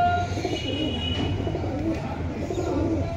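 Pakistani pigeons in a loft in Purba Bardhaman give low, soft cooing that rises and falls throughout, close by, over a steady hum of background noise.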